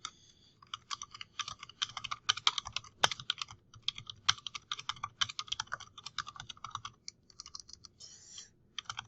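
Steady typing on a computer keyboard while a manuscript is written, with quick irregular bursts of close, crisp key clicks and brief pauses between words.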